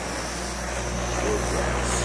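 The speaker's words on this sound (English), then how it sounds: "we're burning some wood gas" Wood gas burning in an internal combustion experiment makes a steady, loud, roaring drone with a low hum underneath, continuous for the whole stretch.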